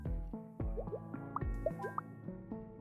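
Soft bubbly popping and dripping from the video game Is This Seat Taken, a quick series of small wet plops and blips close up, with no talking.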